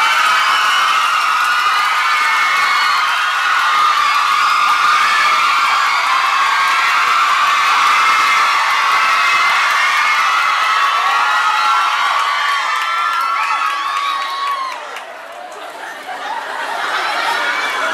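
A large crowd at a Thai shopping mall stage show cheers and shouts continuously at high volume after a dance performance, dipping briefly near the end before swelling again.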